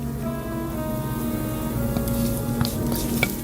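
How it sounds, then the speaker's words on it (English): Spaghetti with bacon fat, eggs and Parmesan stirred in a hot pan, giving a steady low sizzle and soft scraping throughout, with a few brief clinks near the end and no talking. "Just keep stirring until it's like very creamy."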